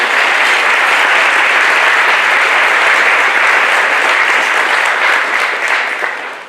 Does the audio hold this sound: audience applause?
yes